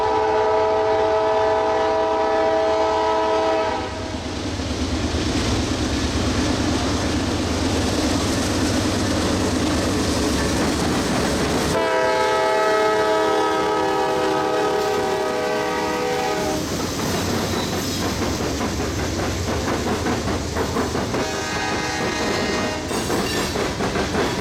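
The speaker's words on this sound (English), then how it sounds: "Norfolk Southern Train 116 is ready to go." A departing Norfolk Southern freight train rumbles and clatters nearby with horn blasts sounding repeatedly over the steady roar of engines and rolling wagons.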